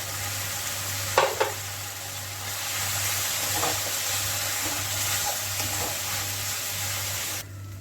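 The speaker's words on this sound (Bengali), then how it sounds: "এখন এটা দিয়ে দিলাম, ওই যে একটা মশলা করেছি কাজু দিয়ে" A cashew spice paste fries in a pan for a vegetarian cauliflower dhoka. It opens with two sharp clinks, then a steady moderate sizzle over a low background hum that cuts off near the end.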